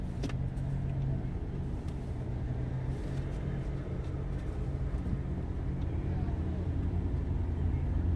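A car creeps slowly forward at a DWI checkpoint, a steady low engine and road rumble heard from inside the vehicle, continuous and even throughout.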